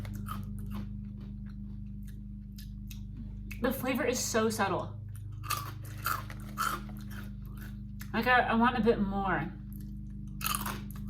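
Barbecue Ringolos ring snacks crunched and chewed close to the mic in two bursts of loud crisp crunching, with a person talking between bites.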